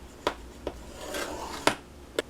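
Paper is scored for a DIY gift bag on a scoring board: quiet scraping rubs with four short, sharp strokes spaced irregularly over a soft background, no voices.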